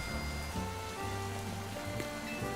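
Rainfall in the video game Pokémon Legends Z-A, a steady, soft hiss of rain on surfaces beneath quiet tonal game music, continuous throughout the short stretch with no talking.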